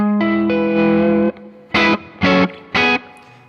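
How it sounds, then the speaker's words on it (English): Distorted electric guitar through an amp's built-in programmable reverb: a sustained chord rings out with a lush reverb tail, followed by three short, punchy stabs that each decay into the ambience. "there's also a built-in programmable reverb that saves per preset"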